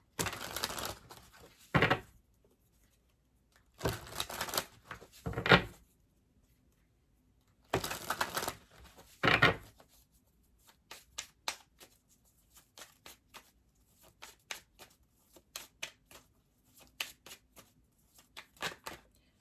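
Oracle cards being shuffled in several bursts of rapid riffling and flicking, close and crisp, followed by a run of single card snaps and taps with silent gaps between.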